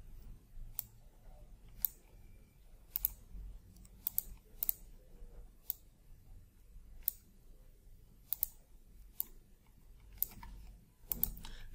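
Sharp, sparse mouse clicks on a computer while building a Microsoft Access login form, about a dozen spaced out at irregular intervals over a quiet room hum.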